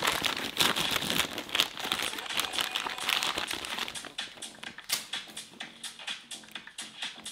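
Wrapping paper crinkles and crumples steadily at close range while a present is wrapped, a dense rustle that breaks into sharper separate crackles toward the end.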